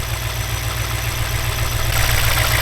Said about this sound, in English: The engine seems quiet and it's running smooth.